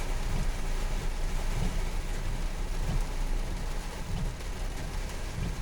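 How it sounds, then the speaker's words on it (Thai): Heavy storm rain pours steadily over a flooded area of Waeng municipality, a dense continuous hiss with a low rumbling undertone throughout. "บรรยากาศฝนตกแห้งครับ"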